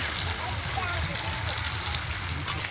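Curry being stirred in a pot over an open fire at an outdoor village field picnic, giving a continuous loud sizzle and hiss with faint voices in the background.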